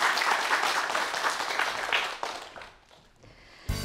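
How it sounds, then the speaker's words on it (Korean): Audience applause closing a science lecture on 4D printing, a dense wash of clapping that fades out over a few seconds before a brief louder bump at the end. "우리 문명훈 박사님께 다시 한번 큰 박수 부탁드립니다"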